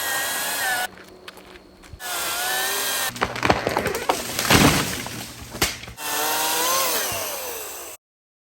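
A dead tree being cut in a North Dakota winter, with a chainsaw whining in bursts, then a mid-clip cluster of cracks and splintering crashes as the trunk gives way and falls, close and loud, with no talk.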